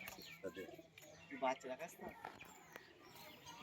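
Pigeons coo softly in a series of short throaty calls close by at a home loft, mixed with small chirps and rustles, with no speech over them.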